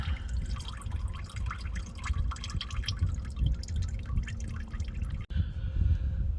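Engine oil drips and trickles from a car's drain opening as the last of it empties, a steady close patter of small wet drops with a brief pause near the end.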